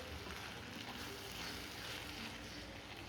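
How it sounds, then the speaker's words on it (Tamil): Pieces of raw mango for an instant Tamil-style mango thokku pickle stir and fry in hot oil, giving a faint, steady, even hiss with no pauses. "இந்த எண்ணெயில் இந்த மாங்காவை நல்லா கிளறி விட்டுக்கலாம்"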